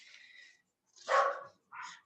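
A dog barks three times in quick succession, close and fairly loud, each bark short and sharp with brief silences between.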